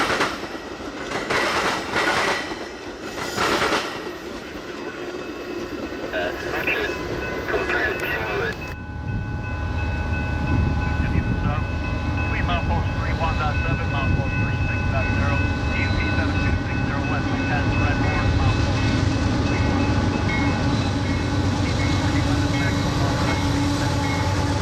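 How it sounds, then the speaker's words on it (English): A westbound Metra passenger train passes through a junction in West Chicago, arriving after an opening stretch of scattered noise and then rolling by as loud, steady rail clatter and rumble that continues to the end. "A westbound Metra train is next through the junction."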